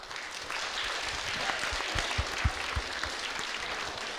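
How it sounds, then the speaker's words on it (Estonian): An audience of young people applauds after a forum theatre performance at a youth mental health event: a steady, dense wash of many hands clapping, sustained throughout, with a few louder individual claps standing out near the middle. "tehke üks aplaus kõigepealt ise endale suurepäraste mõtete eest"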